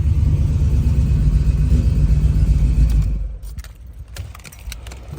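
A 1983 Chevrolet Monte Carlo engine idles on a hot day, a loud, steady, close rumble for about three seconds that then drops to a quieter, thinner idle with scattered small clicks.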